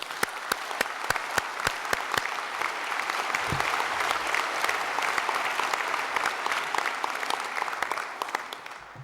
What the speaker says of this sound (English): all those competitors and all those skills experts that got them to that position deserve a huge round of applause